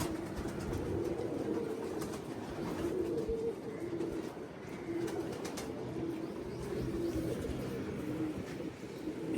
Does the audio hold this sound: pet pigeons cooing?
yes